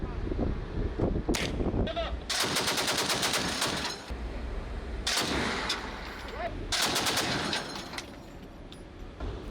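Indonesian Navy warship KRI Kerapu 812 fires 20 mm and 12.7 mm cannons at a floating target at sea: loud, rapid bursts of shots in several volleys, with rough blast noise and a faint voice underneath.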